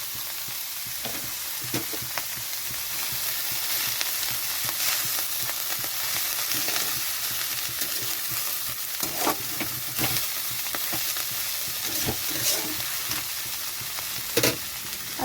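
Cauliflower leaves frying in a pan with bori, salt and turmeric, giving a continuous close sizzle broken by repeated spatula stirs and scrapes, with no speech.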